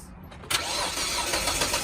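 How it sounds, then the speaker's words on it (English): A car engine cranks and catches after a brief pause while boosted by a TACKLIFE T8 lithium jump starter, firing at once into a loud, steady idle close by. "start the car."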